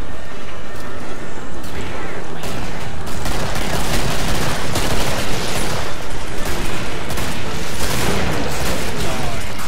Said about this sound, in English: With this here shotgun.